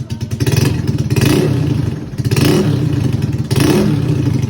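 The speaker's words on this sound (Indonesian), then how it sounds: "Jadi ini harga knalpot di bawah 100 ribu dan suaranya tuh mantap banget cuy." Motorcycle with a cheap aftermarket racing exhaust revving hard in repeated bursts, loud and close, with a deep rumbling drone between throttle blips and no talk.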